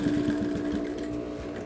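A sewing machine topstitching denim shorts at a reduced 1.5 stitch length runs in one steady, close mechanical whir with a fast rhythmic needle chatter.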